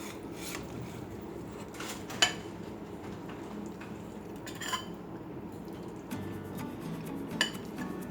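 Homemade mac and cheese cut into wedges like a pie, quiet scraping and rubbing of a utensil against a dish with a few soft clinks, faint and close, no speech.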